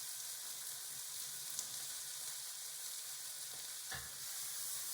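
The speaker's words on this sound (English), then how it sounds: "And we'll toss it while it's still in the hot pan." Asparagus tossed with grated Parmesan in a hot pan just off the stove, a soft continuous hiss of sizzling with faint stirring and one low knock near the end, quiet and without voices.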